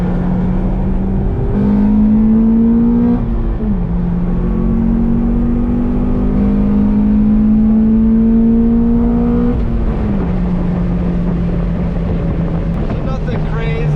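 An Acura TSX with a 6-speed manual revs up through the gears, its engine pitch climbing and dropping between shifts, with wind buffeting the microphone throughout.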